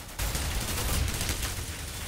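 UMP submachine gun firing in the video game CS:GO, a dense continuous burst of rapid gunfire that starts abruptly and holds at steady loudness.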